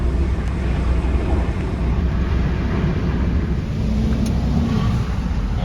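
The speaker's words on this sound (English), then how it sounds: "Just waiting for that lorry now to get off." A lorry's engine runs steadily on a farm as it pulls off after tipping, a loud low rumble with wind noise throughout and no talking.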